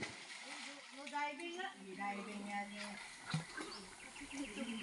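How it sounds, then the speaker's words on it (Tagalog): Water splashes and sloshes as someone swims at a bathing spot, with excited voices and chatter from several people talking over the splashing throughout. "Langoy na, Ros."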